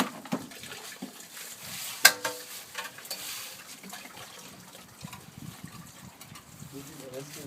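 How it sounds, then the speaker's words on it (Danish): Wastewater trickles and splashes out of a drain pipe into a sand-trap well, a faint, uneven gurgling heard under people talking. "Så kommer det vand ud."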